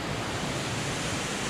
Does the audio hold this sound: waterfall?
yes